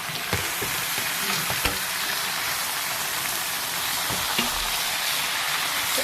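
Onion, tomato and green chilli fry with okra in a pan, giving a dense, continuous sizzle with a few sharp clinks of stirring scattered through it.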